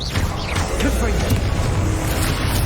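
A Confringo fire blast spell goes off in Hogwarts Legacy, a deep booming explosive burst with crackling rumble, heard close and loud amid ongoing combat noise.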